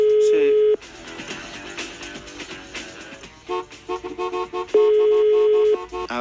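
A steady electronic telephone tone plays, then gives way to music and muffled background sound before the same flat tone returns for about a second.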